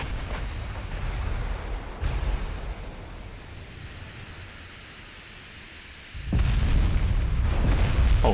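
Shell hits exploding on a Japanese warship in the Dreadnought Improvement Project naval game: a continuous roaring, surf-like rumble broken by two deep booming impacts, the second leading into a louder surge.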